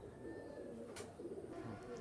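Soft, low cooing from a pair of Royal Teddy pigeons kept for sale, faint and fairly close, with a brief rustle partway through.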